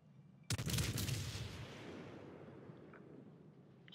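A naval gun salvo in the World of Warships video game, the Wyoming battleship, bursts out as a single heavy blast with a long rumbling decay, loud and alone.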